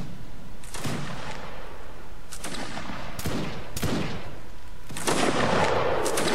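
Musket reenactors from an infantry regiment fire a ripple volley down the line: several sharp, loud shots spaced unevenly over a few seconds, each trailing off in outdoor echo, with no voices.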